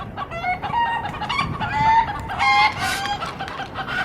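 Chickens cackle and cluck loudly and close by in a New Orleans cemetery, with overlapping, excited calls and a brief crow-like squawk rising over a steady outdoor background.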